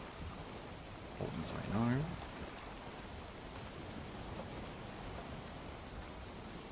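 Steady rain falls over the ocean in the video game Rudiheim, a soft constant wash of noise, while a person speaks briefly over it.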